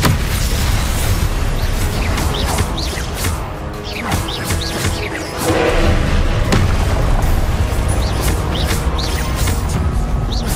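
A Confringo fire spell exploding in Hogwarts Legacy, a series of booming bursts and crashes over a constant busy background, with no talk.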